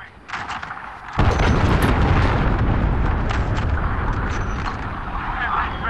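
A cruise missile strike in Call of Duty: Modern Warfare lands as a sudden heavy boom after a short lead-in, then a loud, sustained roaring rumble of blast and debris that fills the rest of the moment, with game voice chatter mixed in.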